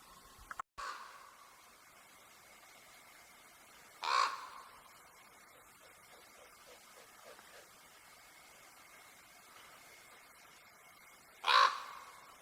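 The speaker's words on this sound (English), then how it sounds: "But he's a raven." A raven in snowy woods gives two loud, harsh caws, one near the 4-second mark and another near the end, over quiet ambient background.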